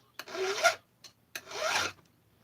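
Two long rasping strokes of a file sharpening a chainsaw chain, each about half a second, separated by a short pause, close and clear with no talking.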